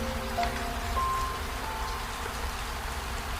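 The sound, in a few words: rain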